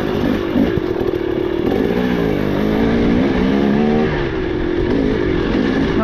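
A 2023 KTM 300XC dirt bike with a dead battery idles loudly up close, its engine holding a steady, rattly two-stroke note with slight wavers in pitch.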